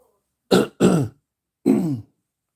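A man clears his throat three times, two quick rough bursts close together followed by a longer one after a pause, close and loud against silence.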